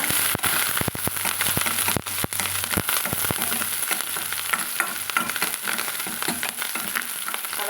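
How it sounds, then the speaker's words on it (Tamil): Shallots and curry leaves frying with mustard seeds in a hot pan, a steady loud sizzle and crackle with repeated scraping stirs and sharp popping clicks throughout, no talking. "கடுகு பொரிஞ்சதும் வெங்காயம் சேர்த்துக்கிறேங்க சின்ன வெங்காயம் வெட்டி வச்சுக்கிறது கூடவே கருவேப்பிலை சேர்த்துக்கிறேங்க"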